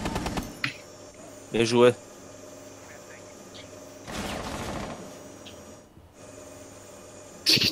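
Gunfire in Rainbow Six Siege, heard as a few short bursts and clattering mechanical bangs in the game mix, moderately loud, with a brief spoken remark over the top.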